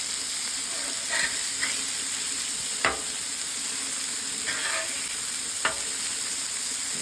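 Salmon pieces and vegetables sautéing in a pan, a constant close sizzle and hiss with occasional soft scraping stirs and a few sharper clacks of utensils.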